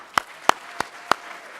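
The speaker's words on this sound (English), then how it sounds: "Ready? Everybody clap." Four sharp, separate claps at a college staff awards gathering, evenly spaced about a third of a second apart and sounding like one pair of hands close by, with a quiet room murmur underneath.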